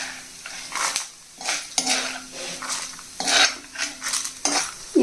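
Fried moong dal fritters are scooped out of an iron kadai onto a plate with a metal spoon, giving repeated clinks and scrapes in uneven bursts over a faint background sizzle.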